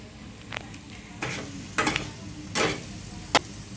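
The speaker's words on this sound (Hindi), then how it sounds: "प्याज को पकने दीजिए." Onions sizzle steadily in a pan while a spoon stirs them in several distinct scraping strokes, ending with a sharp clink against the pan. The sound is close and there is no talking.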